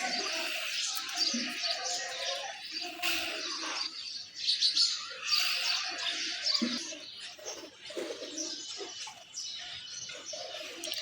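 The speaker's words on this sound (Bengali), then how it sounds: "এটা হচ্ছে অনেক বড় সাইজের একটা কবুতর গাইস।" Soft pigeon cooing and chirps from a large male pigeon kept with others, intermittent and fairly quiet, with brief rustling between calls.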